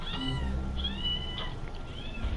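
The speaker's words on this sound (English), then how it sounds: "my cat was driving me insane" A pet cat meows several times nearby, rising and falling calls in an indoor room, clear over a low background hum with no speech.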